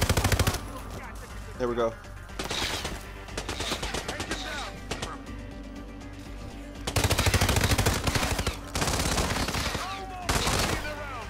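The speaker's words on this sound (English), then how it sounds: "He's shooting all sides." Rapid gunfire in HITMAN rattles in sustained automatic bursts from all sides, loud and close, easing briefly mid-way before surging again, while someone speaks briefly over it.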